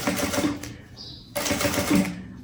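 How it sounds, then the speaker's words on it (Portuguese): A sewing machine stitches around the edge of a fabric bag in fast, loud, rattling runs, stopping briefly in the middle before a second burst of stitching. "Venho aqui e passo a costura aqui no contorno."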